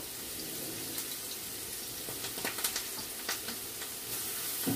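Dry curry leaves sizzle in hot oil in a home kitchen pan, a steady frying hiss with brief crackling pops clustered in the middle, close and fairly loud with no talking.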